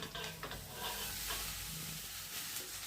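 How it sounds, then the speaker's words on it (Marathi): Mashed peas and potato poured into a pan of ground spiced masala over low heat for a pea karanji filling, giving a close, continuous sizzling hiss with soft stirring and scraping, no talking. "वाटाणे आणि बटाटा स्मॅश केलेले ते ओतून घेते मी"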